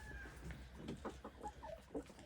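Chickens cluck in short, scattered bursts inside a backyard coop, a fairly faint, close flock calling over a low background hum with no talk.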